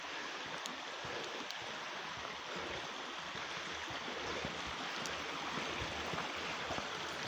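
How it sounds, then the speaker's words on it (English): A stream flowing along a coastal walk at Trevellas Porth, a steady, close rush of water that fills the whole stretch without pause and with no voices over it. "Here's the water, isn't that lovely?"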